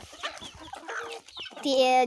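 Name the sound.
chickens clucking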